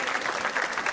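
A school quiz-show audience applauds a correct answer with dense, steady clapping filling a short moment, with voices mixed in.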